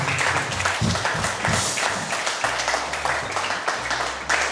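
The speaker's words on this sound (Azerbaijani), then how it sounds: "Alqışlayaq." A studio audience on a television comedy show claps steadily and fairly loudly for a few seconds, a dense continuous patter with some background music underneath.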